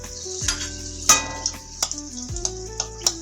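Two dry red chillies fry in a small amount of hot oil, a steady close sizzle broken by sharp clicks and spatters as they are stirred.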